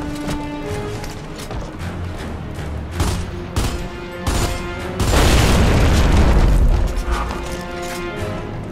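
A video-game grenade detonates in a loud, rumbling blast that swells and decays over a couple of seconds, preceded by a series of sharp thuds and impacts.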